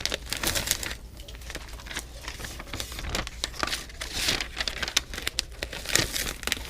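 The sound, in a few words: peeling labels off their backing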